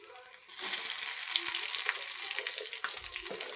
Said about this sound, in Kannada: ನೋಡಿ, ಇವಾಗ ಈರುಳ್ಳಿ ಹಾಕ್ಕೊಳ್ಳೋಣ